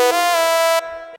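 A layered synth lead built with Harmor and 3XOSC plays one bright, buzzy sustained note for about a second, with a slight pitch bend at the start and an abrupt drop in brightness before it stops.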